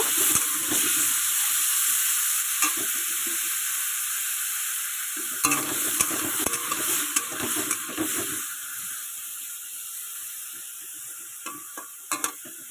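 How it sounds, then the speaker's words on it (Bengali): Potatoes frying in white oil with panch phoron, a loud steady hiss of hot oil with bursts of spatula scraping and clattering that come and go, with no speech. "এবার আমি আলুগুলো এর মধ্যে ছেড়ে দেবো এর থেকে আলুটা ভালো করে ভেজে নেব"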